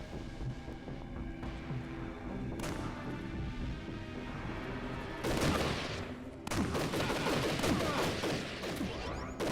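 Shotgun blasts and other gunfire in the Army Men: Sarge's War video game: a constant barrage of shots, with louder, heavier booms hitting around the sixth and seventh seconds and battle noise continuing throughout.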